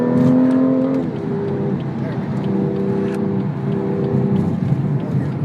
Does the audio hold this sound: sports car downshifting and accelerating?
yes